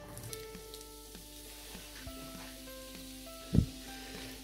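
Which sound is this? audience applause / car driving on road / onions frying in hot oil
onions frying in hot oil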